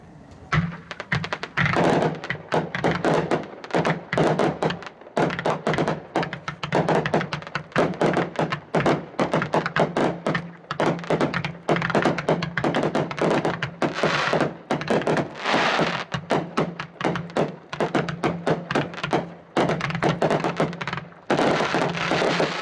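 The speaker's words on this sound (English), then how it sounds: "That's a whole lot of fireworks." Three 500 gram fireworks cakes fire simultaneously in a dense, continuous barrage of rapid launch thumps and cracks lasting over twenty seconds, heard outdoors from nearby.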